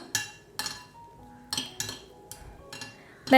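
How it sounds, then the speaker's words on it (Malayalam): A spoon stirs masala into cooked dal in a pan, giving a series of sharp metallic clinks and scrapes against the pan at an uneven pace, close and clear with quiet gaps between them. "നന്നായിട്ടൊന്ന് മിക്സ് ചെയ്ത് കൊടുക്കുക"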